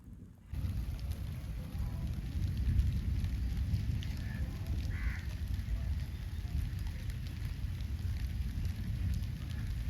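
Rain falls steadily with a dense, low hiss and patter that starts abruptly and holds at an even level throughout, with a faint high tone running above it.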